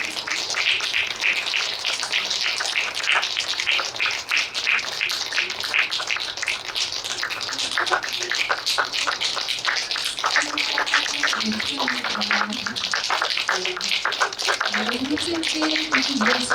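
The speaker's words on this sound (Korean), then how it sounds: "졸업생 입장 모두 박수로 맞이해 주시기 바랍니다" Sustained applause from the audience at a Korean graduate school degree ceremony as the graduates file in, a steady dense clapping that fills the whole stretch, with faint voices beneath it.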